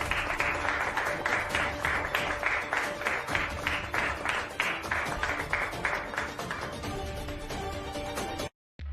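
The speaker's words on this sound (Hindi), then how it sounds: "तालियां तालियां तालियां।" Rhythmic group applause at a ceremony in a Hindi TV drama, loud claps falling in an even beat that gradually thins before stopping abruptly.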